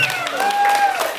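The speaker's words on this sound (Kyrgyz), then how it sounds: "Кол чабуулар сиздер үчүн болду" Wedding guests applauding in a hall, a brief burst of clapping mixed with crowd noise and a sustained tonal voice or music line running over it.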